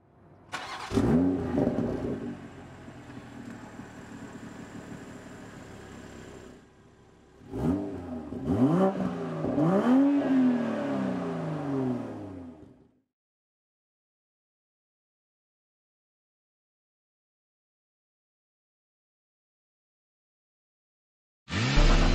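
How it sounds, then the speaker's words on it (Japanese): A BMW 4 Series Gran Coupe M440i xDrive with its inline-six engine drives along, revs rising and falling in two separate bursts, followed by a long silence and a brief sound at the very end. "さあ今日は BMW の4シリーズグランクーペ M440iX ドライブに試乗しています"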